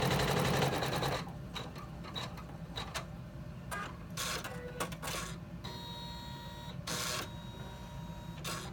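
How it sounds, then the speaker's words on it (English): An embroidery machine sews a placement stitch for accent panels on a zipper pouch, a quiet, rapid mechanical chatter with repeated sharp clicks and brief whirring bursts from the moving hoop, with no voices. "I'm going to run the placement stitch for my accent panels"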